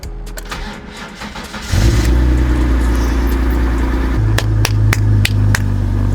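A car engine cranks, then catches at about two seconds and keeps running loud and rough with a deep, heavy, diesel-truck-like rumble, while several sharp knocks punctuate the idle near the end.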